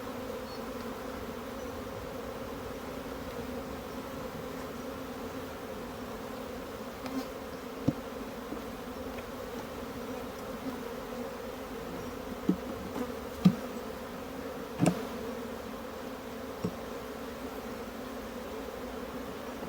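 Honeybees hum steadily at an open hive while queen cell starters are made up at a sheep yard, a dense even drone with a few faint clicks and knocks from handling.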